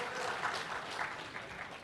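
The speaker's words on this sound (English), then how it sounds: "Let's have a round of applause for भाई।" An audience at a university orientation event applauding, a steady wash of clapping at moderate distance that holds evenly without a break.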